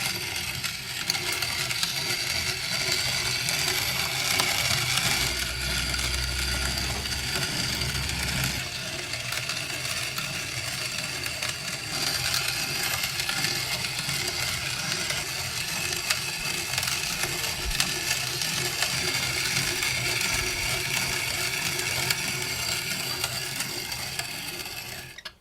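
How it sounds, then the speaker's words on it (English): A ROK GC manual coffee grinder hand-cranked through espresso-fine coffee beans, giving a steady, continuous grinding rasp with a faint mechanical rattle that runs unbroken for the whole stretch, close and fairly loud, with no talking. "how long it takes to grind the amount of coffee you need for one shot of espresso"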